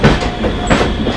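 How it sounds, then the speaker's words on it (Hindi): Passenger train rolling past on an Indian rail line, a steady loud rumble of wheels and cars with rhythmic clickety-clack and a brief high wheel squeal. "जा रही है ट्रेन।"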